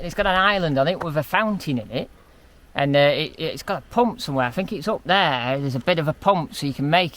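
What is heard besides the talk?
None of the usual background noises is heard.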